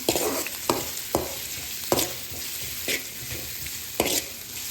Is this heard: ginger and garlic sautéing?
yes